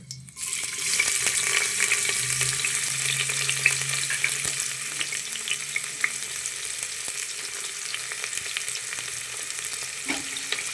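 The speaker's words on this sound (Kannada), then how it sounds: "ಈರುಳ್ಳಿ ಹಾಕ್ಬಿಟ್ಟು ಫ್ರೈ ಮಾಡೋಣ." Onions frying in hot oil inside a pressure cooker, a loud continuous close-up sizzle with faint crackles and occasional stirring, no voices.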